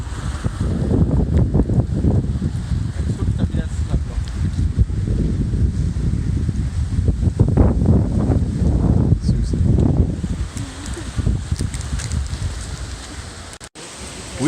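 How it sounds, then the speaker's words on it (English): Strong wind gusts blowing outdoors, a continuous loud rushing roar with surging buffets and mic-rattling wind noise, no talking. "We are supposed to get wind gusts today of up to 60 miles an hour."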